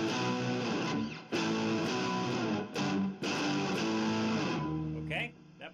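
Electric guitar repeating the main riff of a song: steady, dense distorted chords with brief gaps between phrases, close and loud, no talking.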